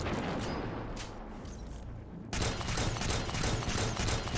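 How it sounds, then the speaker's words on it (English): Rapid bursts of gunfire in the video game Destiny 2 aimed at a box, a thin volley followed by a louder, denser run of shots that continues to the end. "Might as well shoot this box while I'm at it"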